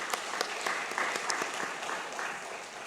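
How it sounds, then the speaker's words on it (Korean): A church congregation at a Sunday service claps together in a steady, fairly quiet burst of applause lasting a few seconds, with no voices on top. "요셉 우리 어르신에게 우리 박수 한번 쳐야 됩니다"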